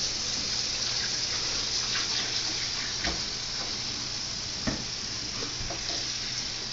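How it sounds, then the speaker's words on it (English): Hot soapy water pouring steadily into a sink, a constant rushing hiss with a few soft clinks and splashes, close and unbroken, with no talking. "First, you must fill it up with hot soapy water."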